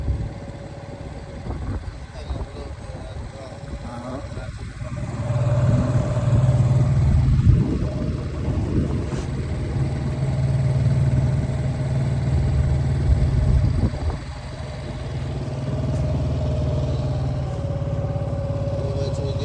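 A 7 hp small engine bought from Amazon runs on its first test, a steady mid-pitched rumble that swells louder midway and settles into a continuous idle, with people talking over it.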